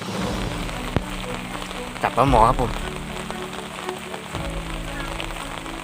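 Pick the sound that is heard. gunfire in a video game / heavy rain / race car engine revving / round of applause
heavy rain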